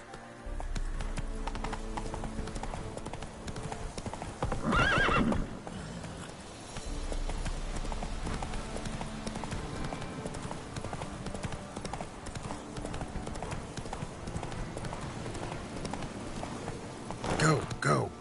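Horse hooves galloping in The Witcher 3: Wild Hunt, a fast and steady clip-clop that keeps going through the clip with brief louder bursts, while a voice talks over it.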